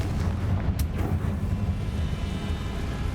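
Confringo fire spell blast in the Hogwarts Legacy game, a single sharp burst near the start over a continuous rumbling game ambience during combat.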